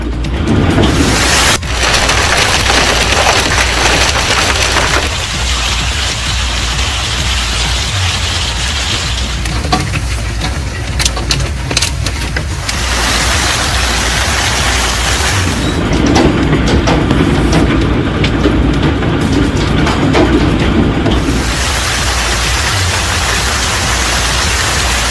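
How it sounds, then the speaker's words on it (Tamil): Large hail driven by a strong gale, a loud, continuous roar of pelting ice and wind that swells and eases in waves, with harder rattling bursts throughout and no voices. "சூறைக்காற்றுடன் ஆலங்கட்டி மழை பெய்தது"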